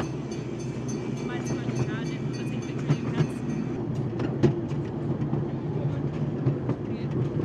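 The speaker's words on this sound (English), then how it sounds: "We're on the train, folks." Riding aboard the Blackpool Zoo Express train brings a steady rumble with rhythmic clicks and clacks of the wheels, while people talk over the noise.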